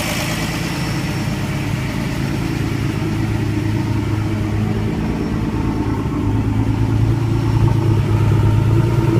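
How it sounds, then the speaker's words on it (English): The Gila Monster vehicle's engine runs at a steady idle shortly after a restart, a loud, continuous low rumble that holds even and close throughout, swelling slightly near the end. "engine runs pretty decently for having about 5 minutes of runtime on it."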